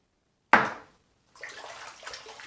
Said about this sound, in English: Rinse off my hand here.